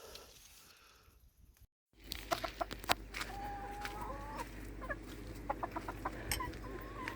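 Backyard chickens cluck and murmur close by around a farm coop, with a sharp squawk and scattered clucks over a steady outdoor hum after a brief quieter stretch.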